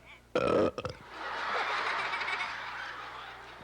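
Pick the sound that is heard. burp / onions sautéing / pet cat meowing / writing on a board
burp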